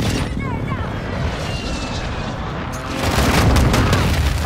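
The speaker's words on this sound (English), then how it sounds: "Friendly cruise missile approaching target" Cruise missile airstrike explosion in Call of Duty: Modern Warfare II, a deep rumbling boom that swells into a heavy low roar toward the end, with jet-like aircraft noise and battlefield din around it.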